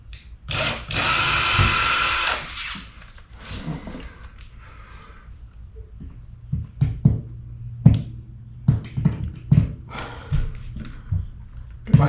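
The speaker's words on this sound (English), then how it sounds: "I'm using a 1/16 drill bit" A power drill with a 1/16-inch bit whines in a sustained burst while drilling pilot holes, then several shorter bursts follow, ending in a run of sharp knocks and clicks, close by.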